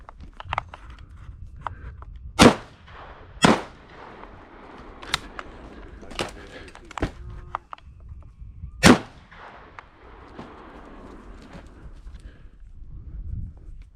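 Shotgun blasts during an outdoor bird hunt, three loud sharp reports spaced over several seconds with a few fainter knocks and quiet field ambience between.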